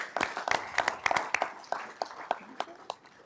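An audience at a city's live State of the City event gives a round of sharp, distinct claps that come thick at first and then thin out, fairly faint and heard alone without talk.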